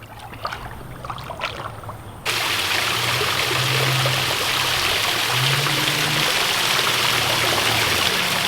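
Steady rushing of a shallow urban creek flowing over rocks, close and continuous, starting after a brief quieter moment, with low murmurs beneath.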